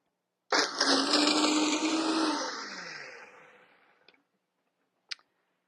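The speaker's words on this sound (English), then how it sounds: "And we're going to blend that before we add the remaining ingredients." A kitchen blender whirs loudly at full speed through onion flakes for about three seconds, its motor pitch slowly winding down before stopping, followed by two brief clicks.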